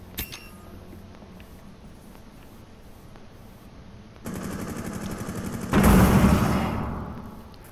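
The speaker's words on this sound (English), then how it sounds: "What's going on? I hear gunfire." Automatic gunfire in the tactical shooter Rainbow Six Siege erupts after a quiet stretch, rapid bursts growing louder and closer before tapering off, with no talking.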